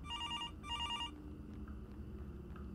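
A telephone rings in the horror game Graveyard Shift, two bright electronic ring bursts in quick succession, then stopping, over a steady low background hum.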